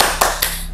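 A few sharp hand claps at a street-food stall, two or three crisp slaps close by in quick succession, standing alone.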